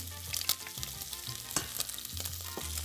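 Onions and lardons frying in oil in a pan, a steady close sizzle with crackles and a few stirring clatters throughout, no talking.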